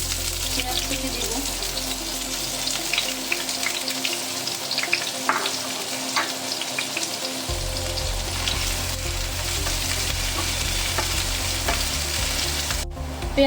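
Chopped onions frying in oil in a frying pan, cooked for a dried-fish (shutki) curry: a steady, close sizzle and crackle runs throughout, with occasional stirring scrapes and a low rumble building in the second half.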